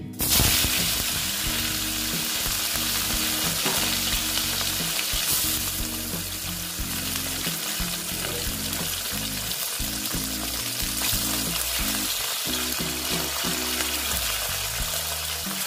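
Bata fish frying crisp in hot salted oil in a wok, a loud continuous sizzle and crackle throughout, with occasional stirring clatter.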